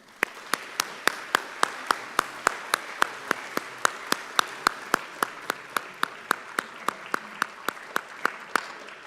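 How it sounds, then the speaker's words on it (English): Applause at an annual meeting comes through as sharp, evenly spaced claps, about three per second, distinct and fairly close, repeating steadily with faint room murmur beneath. "let's have a round of applause to thank them."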